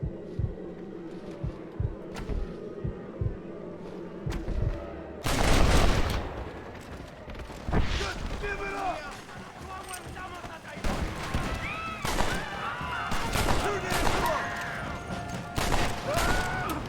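Gunfire in the Red Dead Redemption video game: sharp shots, with a dense burst near the middle and scattered reports after it, mixed with game sounds and music under speech.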